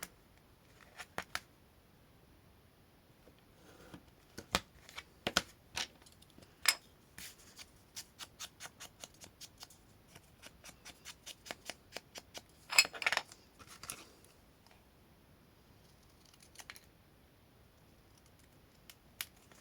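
Scissors snip paper while making a small 6x6 cm tic tac storage box for ribbons, with sparse, close, crisp cuts arriving in irregular bursts against a quiet background.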